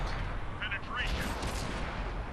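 A tank gun shot in the console version of World of Tanks, set against a loud, constant battle rumble with a brief high whine, no clear separate blast.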